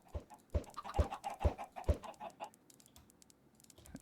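Eggs thrown against a wall in Minecraft, with chickens hatching from them. Regular soft pops come about twice a second, mixed with clucking, then trail off into fainter, scattered sounds.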